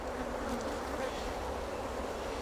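Honeybees swarm over a brood frame during a hive split, making a dense, continuous buzz that stays close and steady throughout, with no voices.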